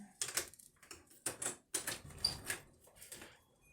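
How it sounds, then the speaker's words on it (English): A door being opened indoors, heard as a series of soft knocks, rattles and scrapes of the handle and frame in short bursts, fairly faint and close. "Probably going to open up this door"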